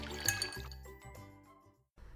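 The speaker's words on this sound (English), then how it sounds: "Pour me a drink." A drink is poured into a glass in short liquid bursts with faint clinks, ending in a brief pause before a low background resumes.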